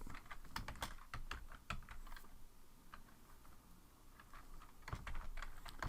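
Rapid keystrokes on a computer keyboard while data is entered in Excel, arriving in irregular bursts with short pauses, close and fairly quiet throughout.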